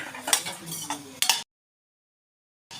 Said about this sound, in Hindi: और यहाँ भूंज रही हूँ मैं बेसन मीजा के लिए।